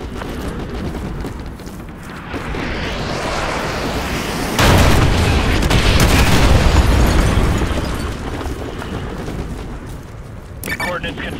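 Artillery strike explosions in the Call of Duty Modern Warfare 2 video game: deep rumbling booms build and swell into a sustained roar mid-clip, then fade, with a sharper burst near the end.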